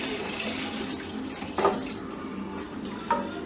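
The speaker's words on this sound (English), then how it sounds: "And 2 cups of water for now." Water pours steadily into a soup pot in a continuous, fairly loud wash, with a couple of brief clunks of metal cookware partway through.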